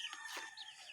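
Backyard pet chickens clucking and calling close by at feeding time, several short bird cries overlapping in one brief burst.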